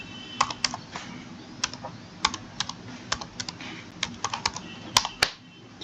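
Fingers type an SQL query on a computer keyboard with irregular clusters of sharp, close key clacks over a faint hum, and a couple of louder strikes near the end.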